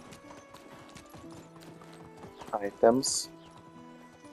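Horse hooves clip-clopping in the medieval game Medieval Dynasty, a steady soft trot under background music, with a short burst of voice and a brief whinny-like sound near the middle.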